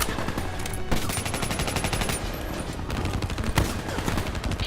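Rapid automatic gunfire from the Call of Duty: Black Ops 3 campaign, dense bursts of machine-gun shots loud and continuous throughout, with scattered heavier impacts mixed in.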